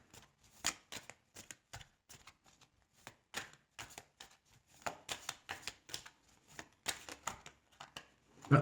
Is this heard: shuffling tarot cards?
yes